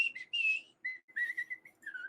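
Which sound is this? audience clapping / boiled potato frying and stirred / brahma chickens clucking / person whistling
person whistling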